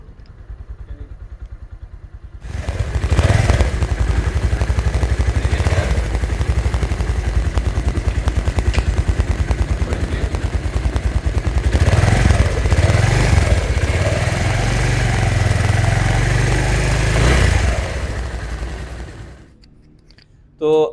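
A Suzuki GSX 125 motorcycle engine idles steadily and loudly at close range, with a low throbbing rumble and a few revs, then cuts off near the end.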